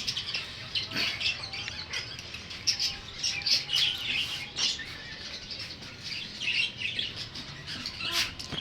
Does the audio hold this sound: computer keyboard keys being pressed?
no